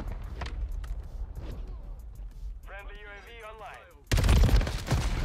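Gunfire in a multiplayer shooter game: a few faint shots early, a strange warbling burst midway, then a loud sustained volley of rapid fire near the end, with players talking over it.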